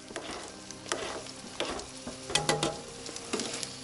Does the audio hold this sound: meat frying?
yes